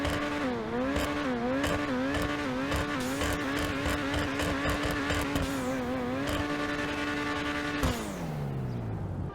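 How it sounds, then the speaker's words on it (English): The exhaust of a Grotti Itali GTO in GTA Online drones loudly and steadily with small rev shifts, then the engine note drops as it eases off near the end, with no voices. "let's take a listen to the exhaust on this car."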